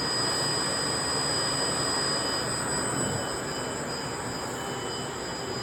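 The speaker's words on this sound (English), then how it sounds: "And now we're going to turn on the conveyor." Yaki Sugi wood-burning machine with its conveyor switched on, a steady loud mechanical rumble and whir with a broad hiss and constant high tonal whine running alone throughout.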